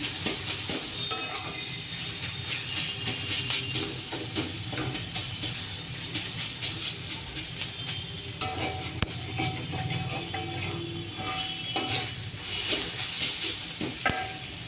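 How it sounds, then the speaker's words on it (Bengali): Breakfast food frying in a pan with a little turmeric, giving a sustained close sizzle and hiss, with repeated stirring scrapes and occasional clinks throughout. "তারপর এটা আবার ভেজে নেব কিছুক্ষণ"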